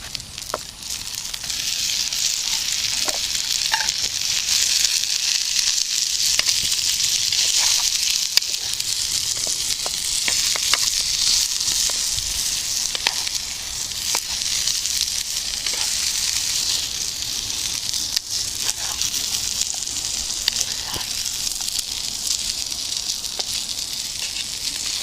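Potatoes boiled beforehand and a Montbéliard sausage sizzle in a pan over an outdoor fire in the woods, a steady close crackling hiss with occasional pops and no talk.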